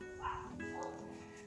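A dog gives a couple of faint, short yips and barks outdoors in a garden, quiet and somewhat distant, with soft background noise.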